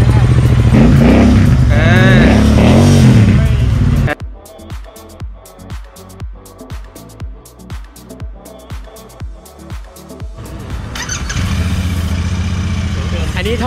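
A Royal Enfield motorcycle with a stock exhaust, at a dealership in Chiang Mai, thumps at idle in a steady, evenly spaced beat, then rises into a louder, sustained rev near the end. Loud talking fills the opening seconds.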